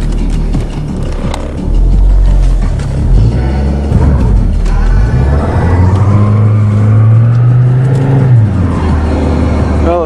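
Car engine in a winter cold start, revving hard while the tires spin and smoke on snow; a loud, continuous engine roar rises and falls with a long sustained rev, close and with no talk.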